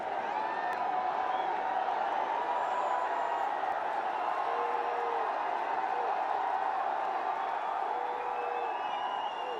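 A cricket stadium crowd at a Ranji Trophy match during Virat Kohli's innings makes a steady, distant roar of murmuring and cheering that holds throughout, with faint whistles and a commentator talking over it.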